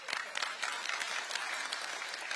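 Audience applause fills a hall during Prime Minister Kim Min-seok's K national policy briefing in Jeonbuk: steady, dense clapping from a large crowd, continuous and fairly close throughout.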